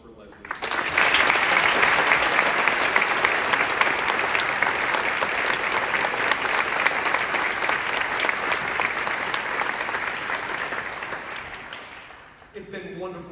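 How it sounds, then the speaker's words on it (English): Sustained, loud audience applause for a guest composer at a senior all-state band concert in South Carolina, a thick even roar of clapping that fades slightly toward the end before cutting to a quieter tail. "One more round of applause for Leslie."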